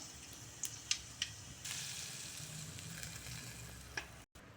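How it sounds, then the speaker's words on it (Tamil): Mustard seeds tempering in hot oil for a manathakkali keerai kuzhambu, a soft close sizzle with a few sharp pops early on, then a steadier hiss that briefly cuts out near the end. "நான் கடுகு போட்டு தாளித்து அதில் ஊற்றிடுறேன் பாருங்கள்"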